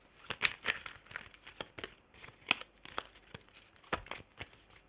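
A deck of playing cards being shuffled by hand, soft irregular riffling and crinkly card snaps in quick clusters, close and quiet with no talking.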